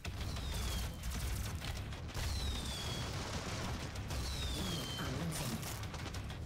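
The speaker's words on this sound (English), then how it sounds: "So many fireworks everywhere!" Fireworks burst nonstop on a Christmas-themed SnapMap game level: loud, dense crackling and booming explosions fill the whole stretch, with several whistling rockets sweeping across the barrage.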